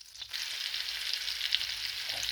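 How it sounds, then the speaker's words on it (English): Rutabaga and other vegetables sizzle steadily in a frying pan of melted butter and olive oil, a soft, even crackle at close range with no talk. "So now I've got all the vegetables in the frying pan with the melted butter and oil."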